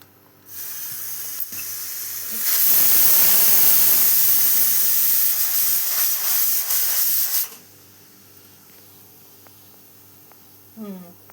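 A pressure cooker cooking dal vents steam in a loud, sustained hiss lasting about five seconds, sharply starting and stopping, with quieter kitchen noise before and after.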